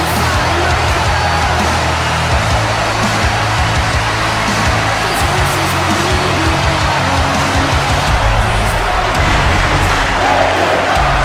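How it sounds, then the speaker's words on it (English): Crowd at a live wrestling event: sustained, dense roar of cheering and chatter from many people, loud and continuous throughout, with no single voice standing out. "you hear the crowd, they are pumped for this just like me"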